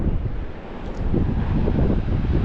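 Strong wind buffets the microphone at a coastal cove in Portugal, a loud, continuous low roar that swells and eases with gusts.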